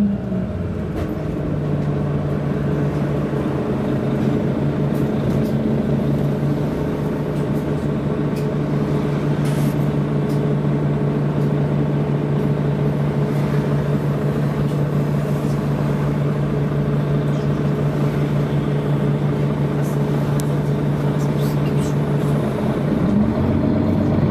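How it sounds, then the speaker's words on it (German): Inside a Mercedes Citaro G articulated city bus on DB Stadtbus route 841, a loud steady engine drone with a sustained low whine, interior rattles and faint clicks riding over it, no voices. "Citaro-Klänge bei DB Stadtbus."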